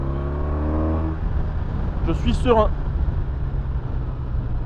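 A 2015 BMW R1200RT motorcycle leaning through a tight bend, its engine a steady low drone mixed with wind rush, with a rider speaking briefly over it.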